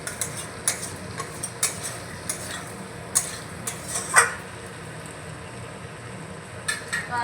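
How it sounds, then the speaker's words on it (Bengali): Potatoes and capsicum being stirred in a pan, soft scattered scrapes and light ticks of a spatula against metal over a faint low background, close but quiet, with a slightly louder clatter midway. "আবার একটু নাড়াচাড়া করে দিচ্ছি।"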